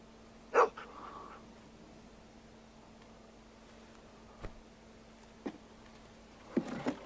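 A dog in The Walking Dead Season Two video game gives one clear bark early on, followed by a few softer yips and whimpers over a steady low game hum, with no talking.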